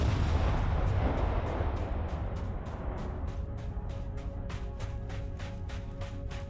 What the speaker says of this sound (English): So that's grenades.